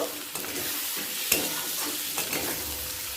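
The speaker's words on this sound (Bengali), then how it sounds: "তিন ভাগের এক ভাগ গরম মশলা গুঁড়ো সাত চামচ জিরে গুঁড়ো দিয়ে একবার ভালো করে মিশিয়ে নেব" Chilli, garam masala and cumin powders get stirred through hot oil in a pan for a Bengali katla fish-head chorchori with Malabar spinach, a steady close sizzle under scraping spoon strokes, one sharp clack midway.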